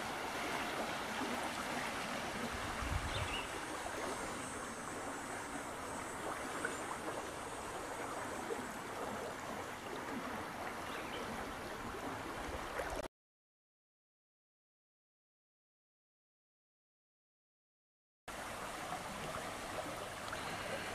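The Little Manistee River flows along a wild forested stretch, a steady broadband rush of moving water, constant and fairly close, cut by a few seconds of total silence before resuming.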